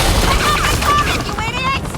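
Police open fire in the Batman: The Enemy Within video game, a dense, loud volley of gunshots that runs without a break.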